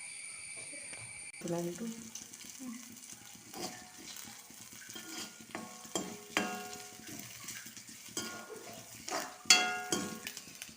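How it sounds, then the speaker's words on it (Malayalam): Leaves frying in coconut oil in a pan, giving a soft, continuous sizzle with occasional stirring clatter and a few brief louder crackles, fairly quiet. "ഇലകൾ നന്നായിട്ട് മൂക്കണത് വരെ വെളിച്ചെണ്ണയിലിട്ട് ഇങ്ങനെ വറുത്തെടുക്കണം"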